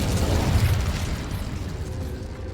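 Incendio fire spell being cast in the video game Hogwarts Legacy: a loud, sustained roaring whoosh of flame with a rumbling low end that holds steady for a couple of seconds, then eases slightly.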